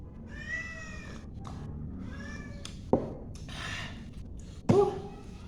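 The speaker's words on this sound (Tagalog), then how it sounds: "Ayaw magkita ng pusa." A cat meows several times with clear tonal cries spaced apart, fairly close, over a low background hum with no speech.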